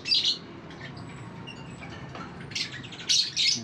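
A bird kept alone in an aviary squawks and chirps loudly in short harsh bursts at the start and twice near the end, with quieter scattered calls and a faint background hum between them.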